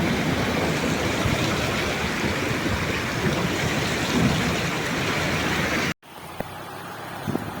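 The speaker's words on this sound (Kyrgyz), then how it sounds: "Суу катуу уруп атат." Muddy floodwater from a mudflow rushing through Toktoyan, a village east of Issyk-Kul, as a loud continuous roar and churn, cut off abruptly near the end, followed by quieter background.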